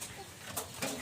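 A pair of parent pigeons near their two squabs give short, soft calls, with a faint flutter-like rustle, all fairly quiet and brief.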